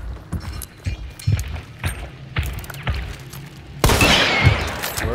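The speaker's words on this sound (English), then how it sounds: "There's two uppercut shots." Rifle shots from an Uppercut in the game Hunt: Showdown, a series of sharp impulsive bangs spaced across the moment, followed by a louder, denser burst of noise near the end.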